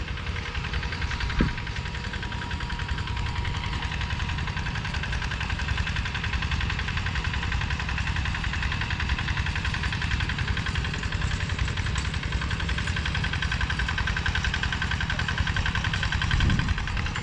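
A farm machine's engine drones steadily and loudly while harrowing a field being prepared for planting, a constant mid-pitched rumble with a slight knocking vibration throughout and no speech.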